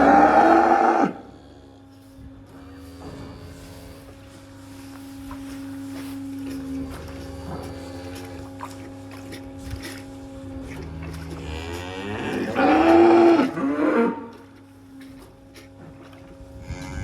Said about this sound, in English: Be hearing me over this cow roaring here